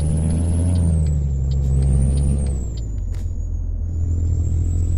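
A Volvo VNL truck pulls away in Euro Truck Simulator 2, a steady low engine drone with a hissing air-brake release and a drop in engine pitch partway through, loud and alone without talk.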